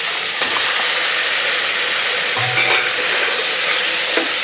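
Mutton sizzling loudly in a hot pan, with steady frying hiss and occasional scraping as it is stirred.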